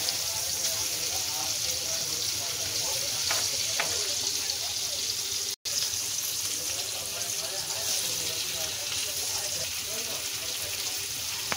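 Lepa and dhoma fish fry in a pan, a steady, dense sizzle close by that continues without letup, briefly broken by a split-second gap.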